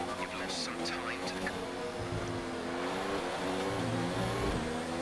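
Race car engines in the F1 2019 video game whine steadily at high pitch, several cars' tones overlapping and shifting as they rev and change gear, loud and continuous throughout.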